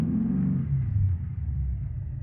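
Car engine in the BeamNG.drive video game, a low rumbling drone that rises briefly then settles, steady and moderately loud with no voices.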